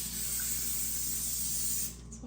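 Cooking spray hisses from a can into a muffin pan in one steady, close burst lasting about two seconds before cutting off.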